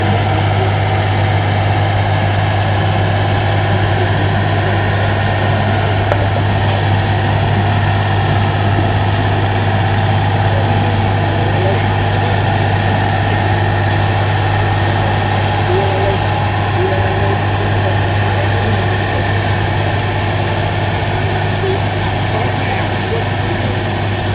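A T150 tractor engine runs steadily under load during a test pull, a constant loud low drone with a strong hum that holds unchanged throughout.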